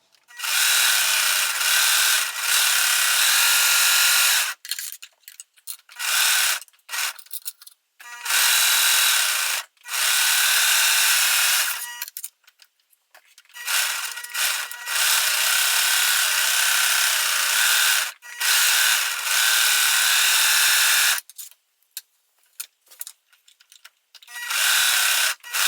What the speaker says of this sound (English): We are going to serge or sew those 4 seams.